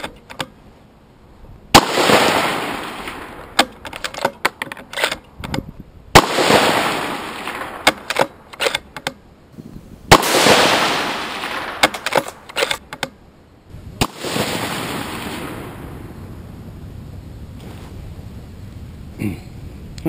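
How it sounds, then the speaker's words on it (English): A .223 rifle firing 55 grain full metal jacket rounds at a target, with loud sharp shots arriving in spaced bursts and each crack trailing into a decaying echo, plus clicks and handling noise between them. "We're just shooting 55 grain full metal jackets out of here."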